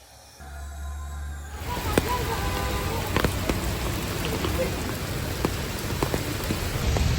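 Steady rain falls on a street in Fatih, Istanbul, a dense continuous patter of drops with occasional sharper hits, starting softly and swelling after the first couple of seconds, with no talking.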